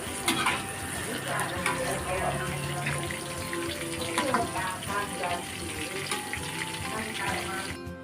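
Tofu seasoned with salt and crushed garlic is dropped piece by piece into hot oil and fries with a steady, close crackling sizzle, broken by light clinks and splashes.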